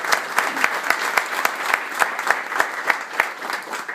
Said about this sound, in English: Give the Imperial Court a round of applause.